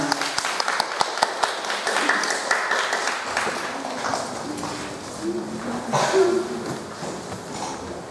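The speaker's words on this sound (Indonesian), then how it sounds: "Tepuk tangan." Applause from the audience at a school traditional gamelan music contest in Kediri: steady, dense clapping with a murmur of voices and faint tones underneath throughout.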